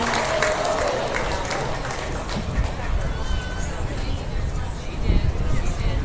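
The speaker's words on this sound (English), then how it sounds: "Let's give them a round of applause and head back to the barn." An audience applauds at a beef cattle show, sustained clapping across the arena with background chatter and an announcer's voice talking over it.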